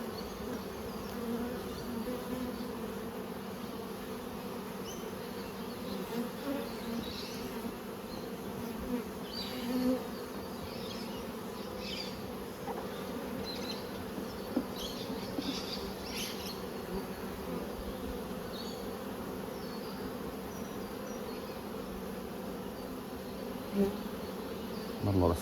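Bees hum steadily around an open beehive during a frame inspection, a continuous close swarm buzz with occasional individual bees passing nearer, no talk heard.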